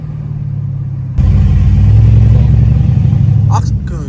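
A car engine revs hard before pulling away, close and loud. A low idle rumble jumps into a sustained roaring rev about a second in, then drops back briefly near the end.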